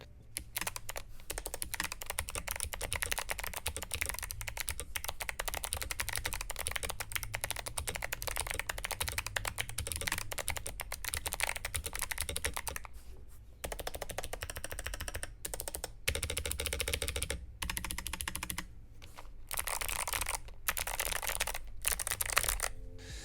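Steady, rapid clicking of a modded GMMK Pro mechanical keyboard with clicky switches being typed on, dense and continuous with brief pauses, recorded up close with no talking.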